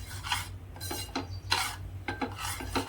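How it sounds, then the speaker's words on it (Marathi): A spoon scrapes and stirs caramelizing sugar in a pan while making kulfi, in repeated gritty strokes at close range over a steady low hum, with no talking. "साखर चांगली कॅरेमल व्हायला लागली ना मग साखर अशी हलवून घ्यायची"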